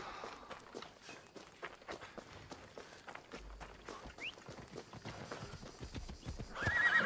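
Horse hooves clip-clopping at a gallop in Assassin's Creed Odyssey after the mount is whistled for, with a few neighs and whinnies over a steady game soundscape that swells louder near the end.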